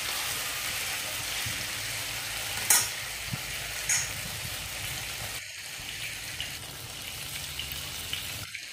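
Marinated meat frying in a pan, a steady close sizzle with a few clinks of stirring and a brief splash of running water partway through.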